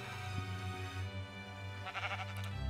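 A Minecraft sheep gives a couple of wavering bleats, faint and clear against a quiet game background.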